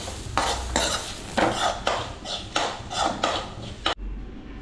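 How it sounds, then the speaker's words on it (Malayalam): Grated coconut stirred in a pan with cumin seeds, a spoon scraping in a steady rhythm of about six close, loud strokes over a faint sizzle, then a sudden stop. "നന്നായി ഇളക്കി ഇച്ചിരി ഒന്ന് കളറായി വരട്ടെ"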